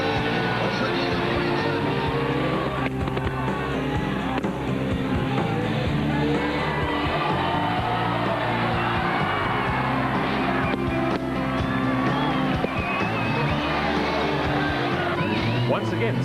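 A Mitsubishi Lancer at the Sasol Rally drives hard past a cheering crowd. A steady roar of engine and crowd noise continues throughout, with a voice talking over it.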